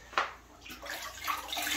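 Water splashes and sloshes in a bucket as a sponge is dampened for a kitchen tile job, a quick splash followed by steady close wet swishing.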